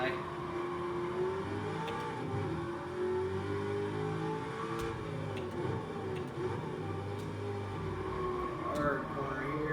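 A racing car in a driving game pulls hard through its first two gears, the engine note rising and dropping in sweeping pitch arcs at each shift, with someone talking steadily over the engine throughout.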